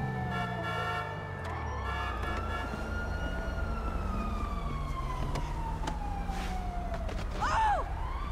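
Emergency vehicle siren in Grand Theft Auto V, a long steady wail sweeping slowly downward over continuous traffic and engine noise, with a brief rising whoop near the end.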